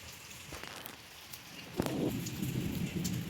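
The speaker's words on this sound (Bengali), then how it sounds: "আমাদের এখানে এখন অনেক বৃষ্টি হচ্ছে" Heavy rain pours steadily outdoors, a dense hiss of drops on surfaces with a louder burst of spatter partway through, no voices present.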